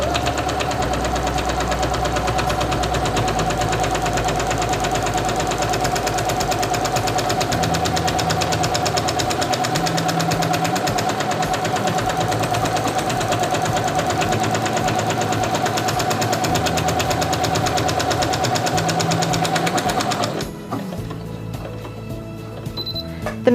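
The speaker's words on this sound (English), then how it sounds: "Lower the presser foot and begin sewing." A Singer Quantum Stylist 9960 sewing machine stitches a buttonhole with a fast, steady mechanical whir and patter that runs continuously for about twenty seconds and then stops, partly under background music.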